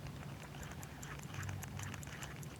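A wristwatch mechanism ticking after being moved, heard as a fast, steady run of faint, close clicks against a low background hum.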